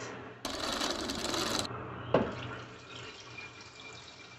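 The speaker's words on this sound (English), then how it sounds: "I'm putting the funnel in there, which has been sanitized, which will just make it life a little bit easier when we're filling it." Water pours through a sanitized funnel into a mead fermenter in a loud, close gush that stops abruptly, followed by a sharp clink and a softer trickle that fades away.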